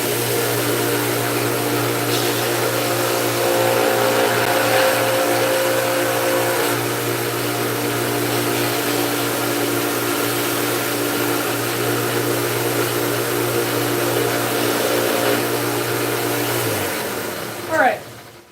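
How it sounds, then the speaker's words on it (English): Power sander grinding a flat edge on the corner of a Santoku kitchen knife blank in a workshop, a loud steady whirring drone that holds for about seventeen seconds before winding down. "So I just needed to sand down a little flat edge on the corner there so that I can set it on the bandsaw and actually saw straight."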